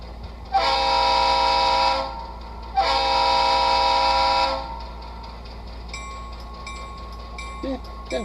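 HO model locomotive sound decoder playing through an iPhone 8 speaker: two long, loud horn blasts, then quieter engine chuffing with faint higher tones.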